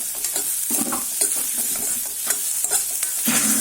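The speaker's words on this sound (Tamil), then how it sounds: "ஒரு 5 நிமிஷமே நல்லா டார்க் கலர் ஆகிற வரையிலும் வதக்கிக்கிட்டு இருக்க வேண்டியதுதான்" Vegetable keema masala sautéing in a pan until it turns dark: a low, steady sizzle is broken by repeated close scraping stir strokes at an uneven pace, with no talking.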